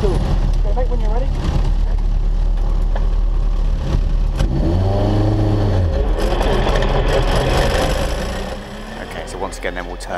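A racing car engine runs steadily and loud, with a rising rev sweep partway through before settling, while people talk over it during a real-life racing session.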